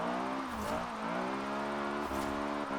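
Honda Prelude VTEC engine in Forza Horizon 4, heard revving alone with rising and falling harmonic pitch sweeps and brief gear-change dips, close and steady in level.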